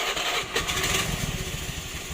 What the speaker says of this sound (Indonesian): Sekarang kita akan menghidupkan sepeda motornya.